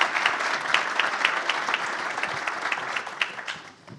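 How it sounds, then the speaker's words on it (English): Audience applause at a startup demo day, dense continuous clapping with some sharper individual claps standing out, tapering off near the end. "Let's applaud them."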